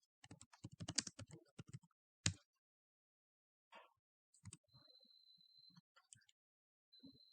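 Keys on a computer keyboard clatter in quick bursts of close typing, pausing between runs, as a search is entered in a browser on a Windows 11 PC.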